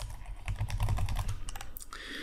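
Close, quick typing on a computer keyboard while creating a Word document, a dense run of clicking keystrokes with a low hum beneath, no voices.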